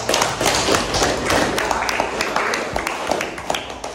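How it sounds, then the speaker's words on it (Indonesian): A classroom of students applauds a presenting group, a brisk burst of many hands clapping that stays close and lively, then thins toward the end with a few scattered claps. "berikan aplaus buat kelompok 1"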